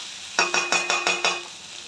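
A spatula stirs chicken-masala chowmein frying in a pan, giving five quick scraping strokes over a soft sizzle, close and fairly quiet.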